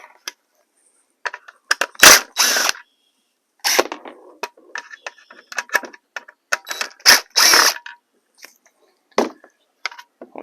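Phillips screws being backed out of a Honda Odyssey turn signal assembly: close, clicking bursts of plastic and metal scraping in irregular clusters, separated by short quiet gaps.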